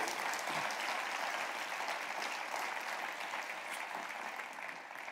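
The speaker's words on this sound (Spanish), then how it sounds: "Dele un aplauso al Rey bendito" A church congregation applauds for the full stretch, steady and dense, with no voices above the clapping.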